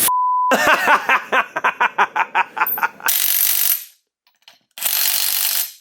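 A ratchet rapidly clicks about a dozen times while tightening bolts on a PBM drop knuckle for a Nissan 240SX, close and loud, followed by bursts of hissing air-tool noise.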